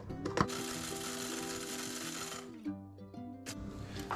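Spices being ground for chapli kebab, a steady mechanical whirring and rattling grind that runs for a couple of seconds, stops, then restarts briefly, close and fairly loud with no talking.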